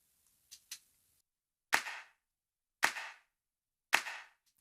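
Three sharp isolated claps roughly a second apart, each followed by a clearly separated reverb tail from an exaggerated pre-delay, preceded by a couple of faint quiet clicks.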